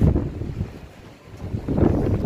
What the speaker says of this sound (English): It's windy, windy, windy.